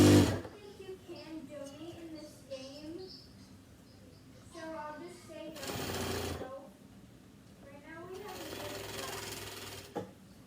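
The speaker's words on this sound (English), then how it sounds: "So I'm going to sew that really fast." A sewing machine stitches in quick, loud bursts of rapid mechanical whirring, separated by stretches of close-up talking as someone works at the machine.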